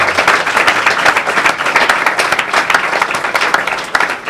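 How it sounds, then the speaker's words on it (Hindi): A Father's Day gathering breaks into loud, continuous applause, many people clapping together in an even, crowded roar that holds for the full few seconds without talk. "जोरदार तालियां बजाएं।"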